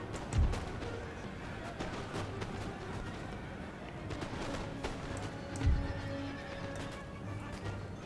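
Cavalry horses in Empire Total War whinny and clop along amid a busy battlefield din, with two sharp neighs standing out over steady hoofbeats and distant gunfire.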